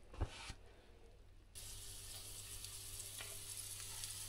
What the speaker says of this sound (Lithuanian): Iškepė, dar paskutiniai blynai kepa.